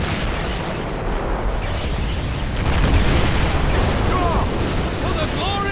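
Artillery fire and explosions rumble continuously through a Warhammer-style war video game battle, a dense, loud barrage with booms that swell midway, while voices shout over the din.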